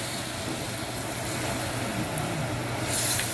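Loud, dense sizzle of goat meat browning in a hot pan, a continuous broadband hiss with a faint low rumble beneath; no voices.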